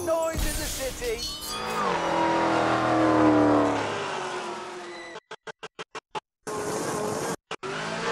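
A Hennessy-tuned 1,000-horsepower Camaro engine roars and revs loudly up close on a city street, ending in a string of sharp, rapid pops and crackles.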